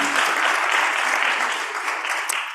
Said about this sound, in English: Applause for Laura.